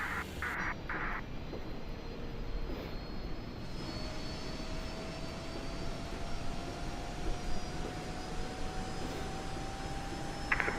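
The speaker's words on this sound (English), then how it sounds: "Beautiful sound of the APU." An MD-11 auxiliary power unit spools up in a flight-simulator cockpit, a steady jet-like whine and broadband roar with a slowly rising tone, loud and continuous, with brief clicks near the start.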